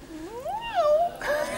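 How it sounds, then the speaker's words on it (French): A cat meows in one long, rising and falling call, fairly close, with faint room noise behind it. "Mais arrête de miauler, toi,"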